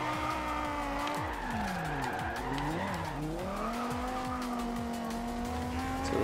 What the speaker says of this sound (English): It sounds like a 5-cylinder, but it's a really small 5-cylinder